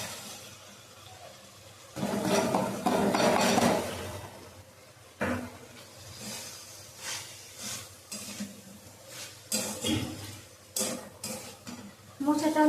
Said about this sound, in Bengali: এবার আমি কেটে রাখা আলু আর মোচা দিয়ে দেবো